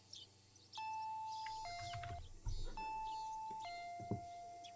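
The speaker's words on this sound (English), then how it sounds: "I heard the doorbell ringing." A video game doorbell chimes twice in a two-note ding-dong pattern, clear tones over a quiet background with faint thumps beneath.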